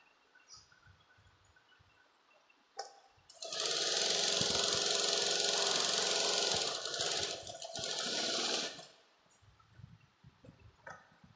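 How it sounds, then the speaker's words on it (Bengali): A sewing machine stitching a patiala salwar runs in a loud steady whirring burst for about five seconds, pausing briefly midway, with quiet handling sounds before and after. "এটা এবার সেলাই করতে হবে"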